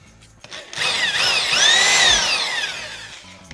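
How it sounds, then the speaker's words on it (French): A power drill fitted with a 4 mm bit bores a pilot hole into wood for a homemade motorcycle stand, whining up loud and close for about three seconds with a pitch that rises and falls under load, with no talking. "une mèche de 4 pour faire un petit prétro"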